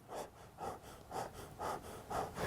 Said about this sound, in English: if you are hunched over and stressed out and you're breathing like this